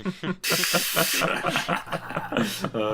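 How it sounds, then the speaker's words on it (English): Blooper ink spraying over a kart in the racing game Mario Kart 7, heard as two loud hissing spray bursts amid game sounds while a person talks over it. "I love whenever you get the ink spray just before the finish line"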